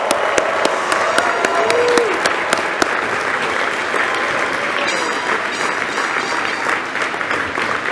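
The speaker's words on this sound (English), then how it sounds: "And now I ask that all students graduating today stand and be applauded." A large crowd at the Brown University 255th Commencement applauds the graduating Class of 2023, with continuous, steady clapping, a few louder claps near the start and scattered cheers.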